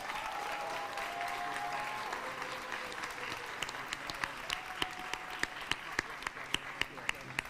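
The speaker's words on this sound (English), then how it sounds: "Please give them a round of applause for their accomplishments" A school audience applauds graduating students, a soft steady patter of many hands that thins toward the end into sparse, distinct single claps, with faint talk in the background.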